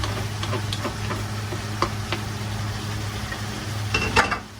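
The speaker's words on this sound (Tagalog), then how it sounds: "So, lagay natin tong carrots" Carrots tossed into sizzling pork in a pan, with a steady frying hiss, a constant low hum underneath, and several sharp clinks and scrapes of stirring scattered throughout, louder near the end.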